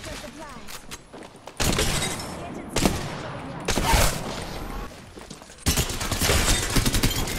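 Bursts of gunfire in the video game Apex Legends, loud rapid volleys in several separate clusters with gaps between them, plus sharp cracks and impacts; a player is talking over the shooting.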